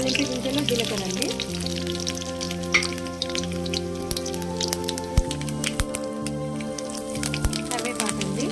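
Tempering seeds and cumin sizzle steadily in hot oil for a village-style Indian rasam (pachipulusu), a continuous close crackle beneath sustained background tones and a voice.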